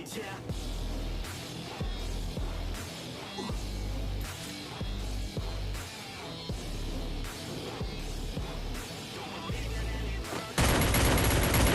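Rapid bursts of gunfire in a shooter video game, loud and repeated in quick volleys throughout, ending in a harsher sustained noise.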